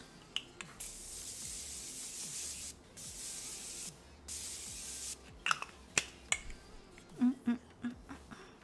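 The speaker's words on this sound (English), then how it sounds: "Let me spray the face." A few short, close hissing bursts of face mist spray, followed by several light taps and clicks near the end.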